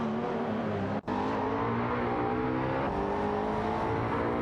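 Race cars in an AI racing video game, with a loud, continuous engine drone that briefly cuts out for an instant before resuming at a steady high pitch, no voices.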